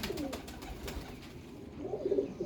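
A Dabwali Kasuri pigeon, a female breeder bird, gives soft low coos close by, a short murmuring run that rises slightly at the end.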